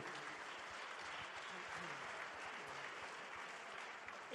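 Broad, steady applause from an audience at a Compass Group gala dinner with a Choose France 2024 awards ceremony, sustained and fairly distant, with a voice faintly underneath.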